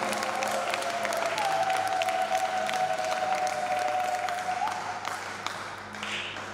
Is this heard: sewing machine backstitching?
no